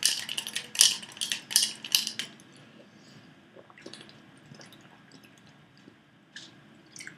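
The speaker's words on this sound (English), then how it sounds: "Let me get a swig of water here." Someone takes a swig of water: a cluster of close, sharp clinks and wet gulping bursts in the first couple of seconds, then quieter scattered sips and handling noises.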